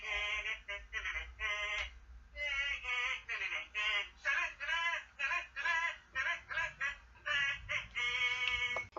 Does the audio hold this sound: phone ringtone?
yes